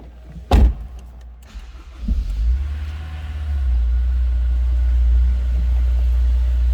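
A 2001 Honda S2000 with 69,151 miles starts with a quick cranking burst, then settles into a steady, close, low engine idle that holds evenly to the end.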